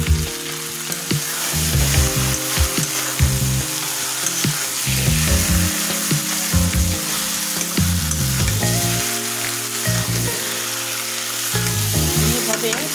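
River fish frying in plenty of oil, a loud, continuous sizzle with steady crackle and bursts of bubbling throughout, heard close and alone with no talk.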